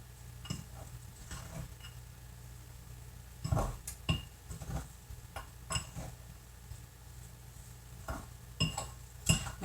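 Blueberry lemon bagel dough is mixed in a bowl, with light clinks and ticks of a utensil against the bowl coming in an uneven, fairly close rhythm over a faint steady hum.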